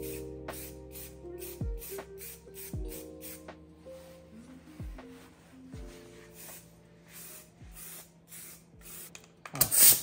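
Tack coat is sprayed onto a 2007 Volvo S60 in a series of short, soft hissing bursts, repeated at irregular intervals against a faint background hum, with a louder burst at the very end.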